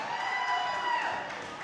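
A wrestling crowd at a match between JD Mason and Frankie Sky roars in support, a brief swell of cheering and clapping that rises and then eases.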